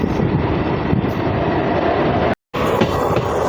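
Rampurhat–Bardhaman MEMU local train pulling out of Guskara station: a steady, loud rumble of rolling wheels and carriages heard from on board, continuous apart from a brief dropout near the end.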